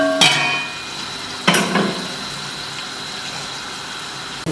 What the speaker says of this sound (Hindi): उसके बाद हम इसके अंदर प्याज ऐड करेंगे।